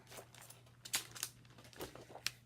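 A silkscreen transfer package is opened with a few quiet crinkling and tearing rustles of plastic, close by and with no talk.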